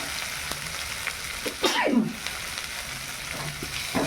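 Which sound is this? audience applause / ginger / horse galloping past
ginger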